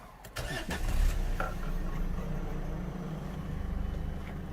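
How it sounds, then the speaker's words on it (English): Renault Duster 1.5 dCi diesel engine with an ECU software fault causing an injection fault, cranking briefly, catching, then settling into a steady, rough low idle, close and fairly loud. "Now we will switch the engine off and start it again."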